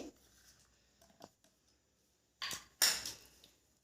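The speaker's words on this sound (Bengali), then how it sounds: "এবারে আমি এর মধ্যে যে চেরি আমি ছোট ছোট করে কুচিয়ে রেখেছি ওটা আমি মিশিয়ে দিচ্ছি।" Chopped cherries are stirred into sponge cake batter with a few light clinks, then two louder spoon-against-bowl scrapes close by, the last fading out.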